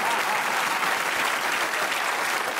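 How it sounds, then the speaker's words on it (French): Studio audience applauding guest Alain Delon on the Belgian comedy show Le Grand Cactus, a loud, dense, steady wash of clapping with no talk over it. "Applaudissez, Alain Delon."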